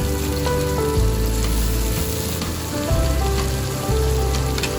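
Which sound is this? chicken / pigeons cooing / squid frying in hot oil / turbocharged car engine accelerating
squid frying in hot oil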